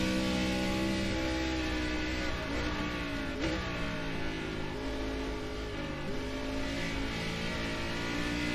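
An ARCA stock car engine howls through gears on the Oulton Park road course in iRacing, a loud, steady drone with rising and falling revs as it brakes and accelerates through corners, with no speech.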